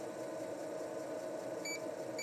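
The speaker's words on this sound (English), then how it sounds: "that beep for double density disks like this" A floppy disk drive in an IBM PC XT clone, the Handwell PC-401, beeps twice in short high tones while reading a double density disk, over a steady whirr of the spinning drive and machine hum.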